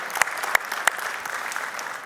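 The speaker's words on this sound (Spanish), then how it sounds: "Dale ese fuerte aplauso al Señor" A church congregation applauds after a prayer, a dense wash of clapping with a few sharper, louder claps standing out near the front, steady and moderately loud with no speech.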